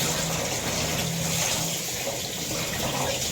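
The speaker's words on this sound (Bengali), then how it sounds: "এই ধুয়ে নিচ্ছি একদম পরিষ্কার করে।" Running water pours steadily while pomfret fish are washed clean under it, a continuous close splashing gush with no pause.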